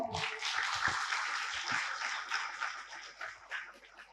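An audience at a devotional gathering claps to welcome arriving devotees, with steady, moderately loud clapping that sounds fairly close.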